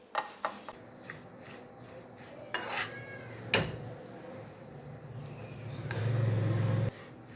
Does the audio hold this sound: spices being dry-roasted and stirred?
yes